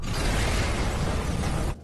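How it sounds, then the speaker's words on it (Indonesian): Bomb blast at a café in the film Alif Lam Mim, heard as a loud sustained rumbling roar with crackling debris that cuts off abruptly near the end. "terjadi ledakan bom di sana"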